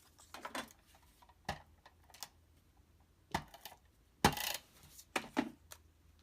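Small paper trimmer slicing through paper for a scrapbook layout, giving a few short, sharp cutting strokes at irregular intervals, close and fairly quiet with no talking.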